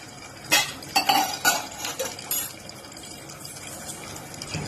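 A spoon stirs salt, chili powder and turmeric into popcorn in a pot, giving a few sharp metallic clinks and scrapes early on, then quieter rustling and scraping, with no talking.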